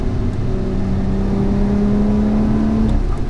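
A 2020 Lotus Evora GT's supercharged 3.5-liter Toyota V6 with Edelbrock supercharger hums steadily from inside the cabin, a loud sustained drone with a rising whine and no voices.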